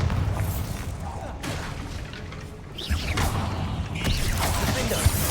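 A Bombarda spell blasts in the Hogwarts Legacy video game, a rumbling boom with whooshing bursts amid busy combat effects, one surge near the middle and another toward the end.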